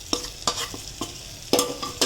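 Vegetable curry with tomato and spice gravy being stirred in a pan, giving a run of distinct scraping strokes in an uneven rhythm with a soft sizzle underneath. Close and moderately loud, with no talking.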